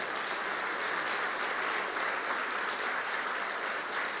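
Church congregation applauding the name of Jesus in a Pentecostal service, a steady dense wash of many hands clapping at even loudness throughout, with no voices standing out.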